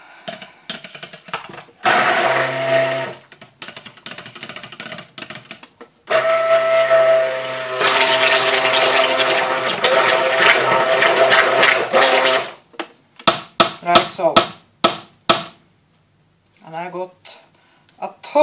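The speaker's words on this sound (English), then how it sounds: "I need to stick blend it" A stick blender whirs in bursts while mixing beer cold process soap, with steady motor runs broken by pauses and short choppy pulses near the end.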